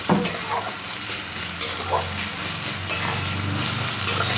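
Tomato and onion frying together in a pan for Bengali sorshe katla, a steady bright sizzle with utensil stirring and occasional sharp clinks of metal against the pan, close up with no talk.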